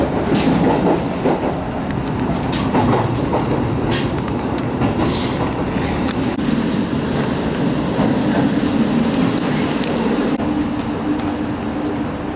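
A Kaisoku Mie train arriving at a station rumbles and clatters steadily along the rails, close and continuous, with faint metallic squeals over the low roar.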